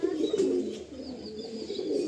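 Pigeons in a pigeon loft at Kanchrapara coo softly and continuously, with low repeated throaty calls close by and a few faint chirps, and no speech.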